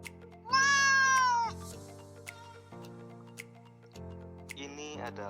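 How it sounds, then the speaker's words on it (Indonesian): Cat meowing sound effect added in CapCut, one clear drawn-out meow near the start and a shorter call at the end, set against a quiet ticking, tonal background. "Ini adalah suara kucing."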